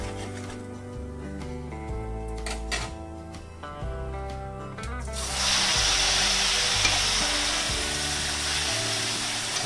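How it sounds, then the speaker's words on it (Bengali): Grated onion tossed into a pan with whole cumin and spices for prawn malai curry: a steady hiss of frying that swells loudly partway through, over a background of music. "পেঁয়াজটাকে এখন আমি সুন্দরভাবে ভেজে নেব যতক্ষণ না পেঁয়াজের কালারটা চেঞ্জ হয়ে যাচ্ছে"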